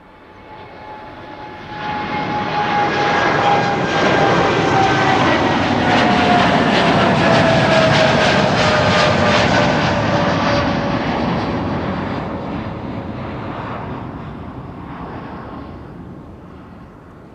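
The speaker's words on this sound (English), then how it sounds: "Lovely Dreamliner" Air Canada Boeing 787 Dreamliner passing at Amsterdam Schiphol, a jet roar that swells in, holds loud with a falling whine as it goes by, then slowly fades, with no voices over it.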